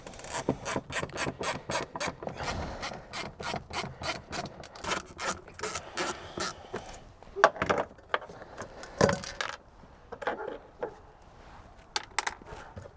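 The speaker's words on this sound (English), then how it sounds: "I'm using a ratchet with a number 2 Phillips bit on it" A ratchet fitted with a number 2 Phillips bit clicks rapidly and steadily as it backs screws out on an Audi A4, a close run of crisp pawl ticks that slows and breaks into separate clicks near the end.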